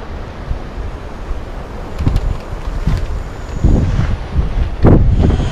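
Wind buffets the microphone outdoors during an off-road drive in Western Australia's Great Southern Region, a steady low roar that swells into louder gusts toward the end, with no talking.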